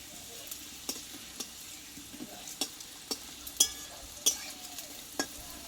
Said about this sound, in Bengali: এইগুলো আমি দুবারে ভেজে নেব দেখো খুব অল্প তেলে কিন্তু এগুলো ভাজা হয়ে যাবে